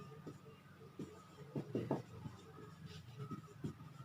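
Pen or chalk writing out a worked calculus solution during a maths lesson, heard as short scratchy strokes in bursts over a low room hum, fairly close and quiet.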